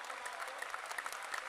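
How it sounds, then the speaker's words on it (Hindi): An audience at a religious gathering applauds steadily, a dense, even patter of many hands clapping at moderate distance, filling the short stretch without voices. "एक बार जोरदार ताली बजा करके धन्यवाद दो।"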